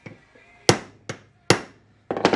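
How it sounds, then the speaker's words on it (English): Four or five firm, separate hammer taps on a Datsun truck kingpin, close and crisp with short ringing decays, ending in a quick cluster of lighter knocks. "you can see I'm tapping on it good and firm, but I'm not having to just haul off and beat on it"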